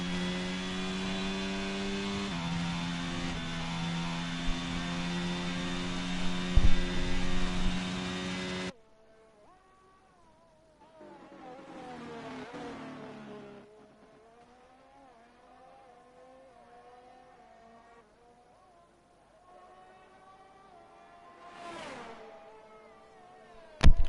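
Race car engine in an online sim racing game, a loud steady high drone at first, then after a drop come several fainter rising and falling revs as the car accelerates and brakes.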